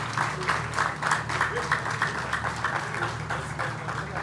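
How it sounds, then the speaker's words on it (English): Audience at an aviation week event in Nigeria applauding performers taking a bow, a dense, steady wash of clapping from a large crowd filling the room throughout. "One round of applause for them,"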